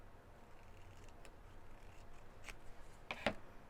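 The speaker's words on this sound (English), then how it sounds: "cut this" Scissors snip through a small paper coin envelope at a craft table, a couple of quick faint cuts near the end with a sharper louder snip at the close, over soft room noise.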